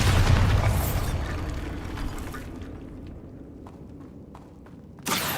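A Bombarda spell explosion in Hogwarts Legacy, a loud booming blast that rolls off into a fading rumble, with a few light thumps and another sharp burst at the end.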